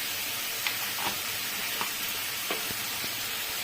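Ground coriander paste and Kashmiri chili powder frying in a pan for an echor chholar dal, a steady close sizzle broken by a few soft stirring clicks and scrapes.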